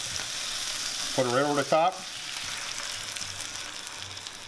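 Fish and white wine sauce sizzle steadily in a hot pan, a bright continuous frying hiss that runs under a brief spoken remark.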